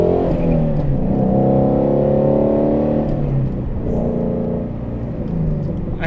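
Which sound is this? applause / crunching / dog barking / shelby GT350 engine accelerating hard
shelby GT350 engine accelerating hard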